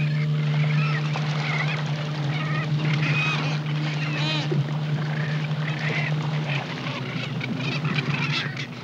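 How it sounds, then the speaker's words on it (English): Large flocks of cormorants and pelicans at a coastal bird sanctuary give honking, squawking calls over a steady low boat engine hum, a dense overlapping chorus at moderate distance. "Thousands of cormorants and pelicans pepper the sky and sea."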